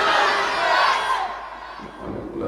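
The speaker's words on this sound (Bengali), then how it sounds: "শুধু অবিবাহিতরা একটা তাকবীর দেন, নারায়ে তাকবীর" Crowd of unmarried men at an Islamic religious gathering roaring a takbir chant in unison, a loud, sustained collective shout that swells and then fades over a couple of seconds.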